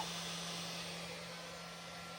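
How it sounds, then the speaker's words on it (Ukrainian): A construction heat gun blows steadily on an inverter's power, a continuous even whooshing hiss with a low electrical hum beneath, no speech. "Будівельний фен також працює."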